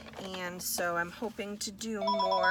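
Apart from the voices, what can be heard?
phone ringing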